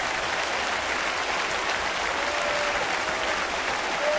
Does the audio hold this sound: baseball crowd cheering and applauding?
yes